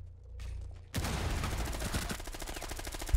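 Rapid bursts of video game gunfire, loud and continuous after a quiet start, with dense repeated shots and a low rumble underneath.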